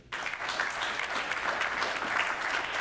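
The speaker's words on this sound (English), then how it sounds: "clap for me if you've played a Mario game in the last year" A live comedy roast audience claps steadily for nearly three seconds, a dense, sustained wash of applause that starts abruptly and holds at an even level with no talk over it.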